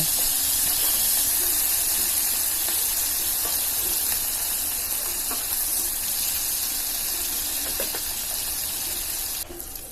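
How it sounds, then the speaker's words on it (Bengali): Fish fries in hot oil for a Bengali echor chingri dish, a loud, continuous close-up sizzle and hiss with occasional small crackles, steady throughout and dipping slightly at the very end. "এবার মাছগুলো উল্টে দিয়ে মাছের এই পিঠটাও ভালো করে ভেজে নেব"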